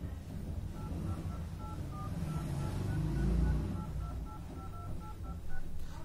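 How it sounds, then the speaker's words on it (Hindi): Keypad tones from a Vivo V23e smartphone dial pad, a series of short, faint beeps tapped out one after another over a low background rumble. "तो गाइस आप देख सकते हैं हमारा dial pad tone mode on हो गया।"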